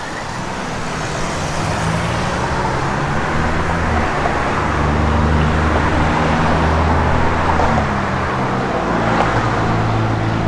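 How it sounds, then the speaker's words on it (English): A 1964 Ford Falcon Sprint convertible idles with an added second exhaust pipe, a loud, steady low rumble with a throaty exhaust burble holding evenly near the car. "added a second pipe. It's not a true dual, but it's going to give you the effect of it. It sounds good."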